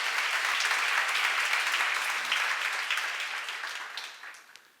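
A church congregation at a Korean seminary sermon on Romans bursts into sustained applause, dense and steady, then gradually thinning and fading out toward the end.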